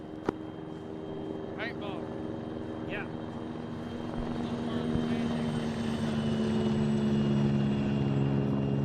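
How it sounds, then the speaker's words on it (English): A hostile helicopter in the Arma military game passes overhead, a steady rotor and engine drone that grows louder over several seconds, with brief voice fragments and sharp clicks early on. "Lotria, that chopper that flew overhead just now, it isn't friendly, is it?"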